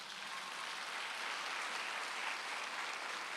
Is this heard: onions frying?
no